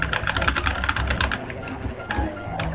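Computer keyboard typing during play of Taz-Mania on SNES, a steady stream of fast, busy key taps under continuous game sound and talking.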